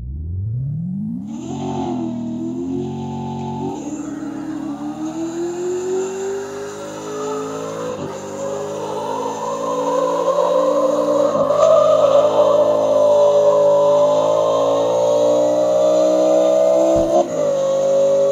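Hoonicorn Mustang in CarX Drift Racing 2 accelerating hard in third gear with boost, a loud continuous engine roar climbing in pitch through shifts, rising steadily louder with a brief dip near the end.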